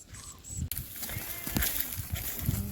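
A flock of sheep is herded along in search of water, with bleating and lowing calls amid a steady outdoor rumble and shuffling movement, fairly close.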